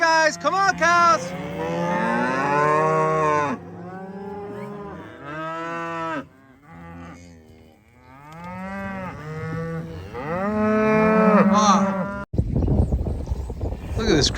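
Cattle on an upstate New York farm moo in a steady chorus of long, overlapping calls from several animals nearby, with a brief quieter stretch midway and a sudden noisy rustle at the very end.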